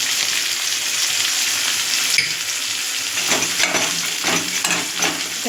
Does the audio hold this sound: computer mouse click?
no